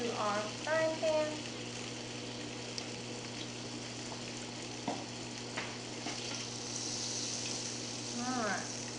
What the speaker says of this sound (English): add 1 tablespoon of butter and another tablespoon of oil, extra virgin olive oil, to our frying pan